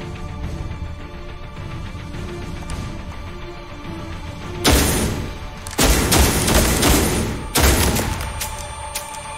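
Gunfire rings out in a StarCraft 2 cutscene, several loud sharp bursts of shots breaking over a low steady background hum.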